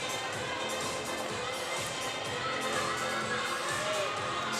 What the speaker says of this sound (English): Her teammates cheering her on.